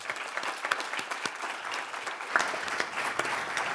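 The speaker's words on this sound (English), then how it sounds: "So there's an applause there as well." Conference audience applauding at the close of a day's sessions: dense, steady clapping from many hands throughout, with a few sharper claps standing out near and at moderate loudness.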